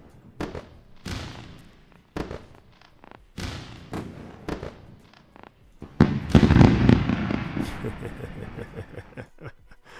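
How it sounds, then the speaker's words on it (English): A fireworks sound effect bursts with a series of sharp bangs and thumps, spaced irregularly, then a denser crackling barrage swells before trailing off into scattered pops. "So you know what we do with that? We go out for a fireworks."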